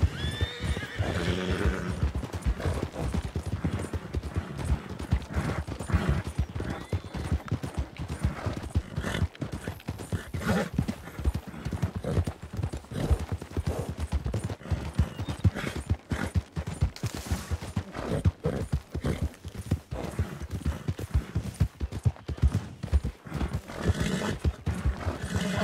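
Horse in a role-play video game, rapid clip-clop of hooves galloping close by in a continuous rhythm, with neighs and whinnies breaking through and bursts of gunfire in the background.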